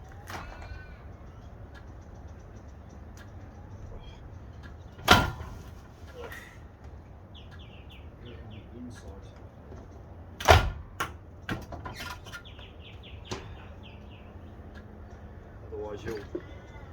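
A glass sliding door is lifted out of its track, giving a couple of sharp knocks and clunks with quiet stretches between them and faint bird calls in the background.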